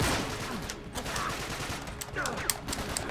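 Gunfire rattles through a firefight in Uncharted 3: Drake's Deception, with a dense, noisy spread of shots and a few sharper cracks. It continues over a short stretch and is fairly loud and close.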